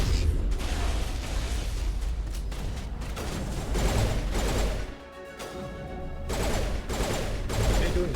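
Rapid bursts of gunfire in the Mass Effect video game, with dense repeated shots and mechanical clatter that briefly drop off before resuming.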